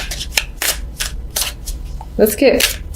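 Tarot cards are shuffled in quick riffling bursts, close and crisp, repeating several times while someone talks over them.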